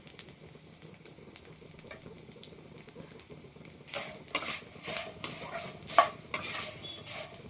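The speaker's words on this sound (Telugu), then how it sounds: "ఇది గోందు వేయించుకోవాలి ఇట్లా." Edible gum (gond) frying in a pan is stirred with a metal spoon, giving soft crackling and patter under quiet scraping, then louder clinks and scrapes against the pan toward the end.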